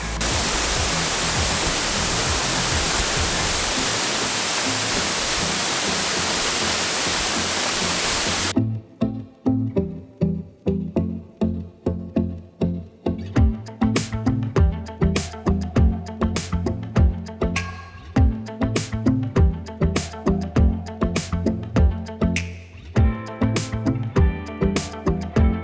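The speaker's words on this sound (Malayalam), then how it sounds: "കാസർഗോഡിൻ്റെ അതിരപ്പള്ളി എന്നാണ് ഈ വെള്ളച്ചാട്ടം അറിയപ്പെടുന്നത്." Achankallu waterfall in Kasaragod, flowing with reduced force, roars as a loud, steady broadband rush for the first several seconds, then gives way to a quieter passage of repeated sharp, rhythmic hits.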